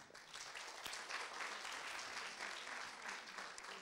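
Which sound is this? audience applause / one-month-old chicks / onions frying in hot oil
audience applause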